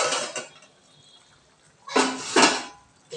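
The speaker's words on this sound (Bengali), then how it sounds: "এই যে ফুটছে দেখছো" Hilsa fish steaming in a tightly covered pan over a low flame for bhapa, giving a short clatter of metal and lid near the start and two louder clanking, hissing bursts toward the end.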